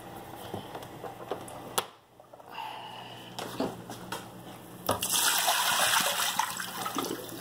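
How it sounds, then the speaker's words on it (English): Water pouring and splashing out of the removable tank of a Breville Oracle BES980XL espresso machine, a steady close gush after a brief pause, with light clatter of handling. "I'm gonna pour the water out."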